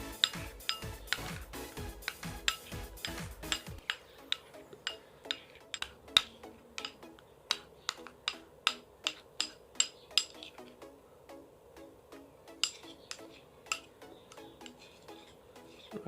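A spoon or whisk clinks steadily against a bowl while an olive oil mixture is stirred, a fast rattling burst at first, then slower, evenly spaced ticks, close and fairly quiet, with no voices.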